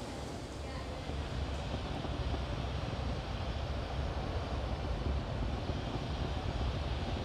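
A SpaceX Falcon 9 rocket climbs during a Starlink launch, giving a steady, dense broadband roar that stays unbroken through the whole stretch with no talk.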